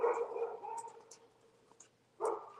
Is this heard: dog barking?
yes